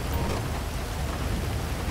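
Steady, dense rain falls outdoors in a video game's rainy setting, a broad, continuous hiss of drops that stays loud throughout with no talking.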